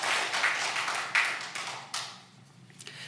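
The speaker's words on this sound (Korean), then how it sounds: "우리 박수로 하나님 앞에 영광 돌리겠습니다." A church congregation at a Sunday service in Anaheim claps in praise, producing a brief, moderately loud burst of scattered hand claps in a reverberant hall that thins and fades away.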